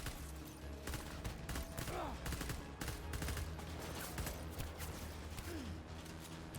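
Rapid bursts of gunfire in the video game Death Stranding Director's Cut crackle continuously throughout, dense and fairly close, over a constant background din.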